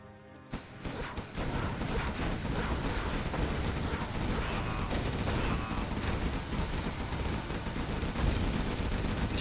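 Fire base defenses in a competitive strategy video game open up with sustained, loud gunfire and explosive blasts, a dense continuous barrage with no talking.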